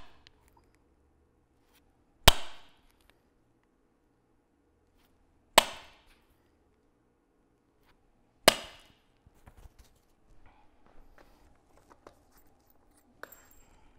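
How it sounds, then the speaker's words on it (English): Three sharp metallic hammer strikes on a center punch marking drill holes in a Toyota 80 Series gull wing hatch, spaced a few seconds apart, each ringing briefly, followed by faint handling noises. "we can center punch them"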